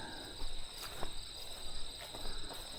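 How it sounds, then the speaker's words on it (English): A katydid calls with rhythmic, raspy pulses over a steady high insect drone, outdoors at moderate distance in a Southern Ontario forest in summer. "That's Zizit. It's Katydid."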